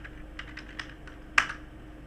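Someone types a short command on a computer keyboard. It comes as a quick run of light, close key clicks, then one sharper keystroke near the end, with no voices.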